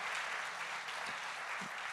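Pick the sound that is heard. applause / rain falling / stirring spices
applause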